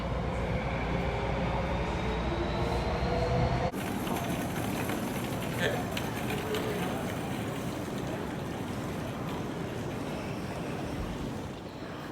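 A SkyTrain bound for Vancouver's YVR Airport rumbles steadily along the tracks, a dense, continuous roar of wheels and carriage noise with a sudden shift in tone partway through.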